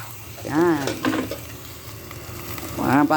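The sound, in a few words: chayote added to pan with ginger, onion, lemongrass sizzling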